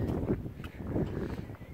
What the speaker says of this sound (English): Gotta enjoy the wind.